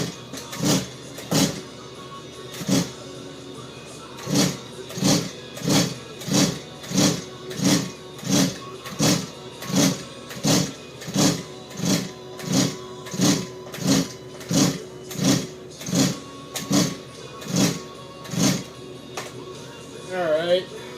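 A Stihl chainsaw being started on half choke, heard as a long run of evenly spaced, loud mechanical bursts, roughly one every second, with a steady low hum underneath.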